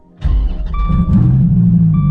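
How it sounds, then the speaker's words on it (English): A 2014 SRT Viper engine bursts to life and revs, a loud close rumble with rising pitch that holds steady after the initial blip, no one talking over it. "My 2014 SRT Viper."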